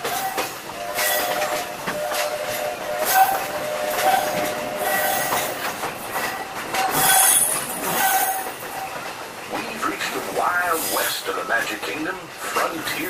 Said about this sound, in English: I'll stay safe and sound right here aboard my train